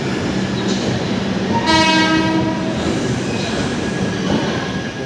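A train pulling out of a station sounds a long, loud horn blast partway through, over continuous wheel rumble and the rattle of railway carriages.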